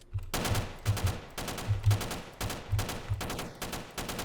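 Rapid gunfire in the SAMP game while aiming and shooting, bursts of closely spaced shots repeating in an uneven rhythm over about four seconds, loud and up front with no voices.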